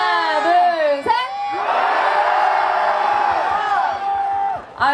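A large outdoor crowd at a K-pop girl group's busking show in Busan cheers, whoops and shouts loudly for several seconds, swelling after a short spoken lead-in, with a voice speaking at the start and a brief burst at the end.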